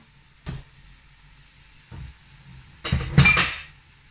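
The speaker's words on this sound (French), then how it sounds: "J'ouvre ma casserole." A saucepan lid lifted from a lamb and potato stew, with a few soft metallic clinks followed by a louder clatter of lid against pot near the end, and no talking.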